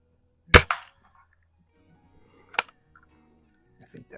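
Haenel 310 4.4 mm BB gun shooting at cans at 15 yards, two sharp, loud cracks about two seconds apart, each followed by a brief metallic ring, with faint clicks afterward.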